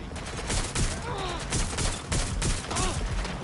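Gunfire in the video game Watch Dogs: Legion, a rapid sequence of close, sharp shots forming a dense volley over a busy background, with faint tonal chirps between bursts.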